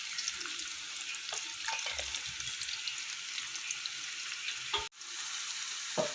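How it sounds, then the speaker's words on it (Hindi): Medium-sized onion frying in about five spoons of hot oil for veg pulao, a steady, fairly faint sizzle with occasional stirring scrapes and a brief break near the end. "ये 5 चम्मच हमने ऑयल लिया और अब हम इसमें शामिल करेंगे एक दरमियाने साइज़ की प्याज।"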